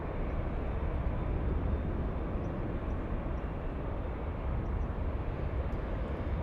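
A Boeing 737-900 airliner departing Los Angeles International Airport, a steady, broad jet roar that stays constant and fairly distant throughout, with no talk over it.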